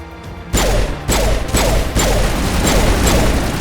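Pistol gunshots in the Mass Effect video game, fired from a Spectre pistol with almost no recoil: a series of about six sharp, loud reports at a steady pace, each ringing into the next.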